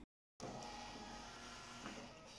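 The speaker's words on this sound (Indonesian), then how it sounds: "Sekarang kita juga akan print juga Shopee" A label printer runs through a Shopee shipping label in one steady mechanical whir with a faint feed rattle, close and alone after a brief silence, with no voices.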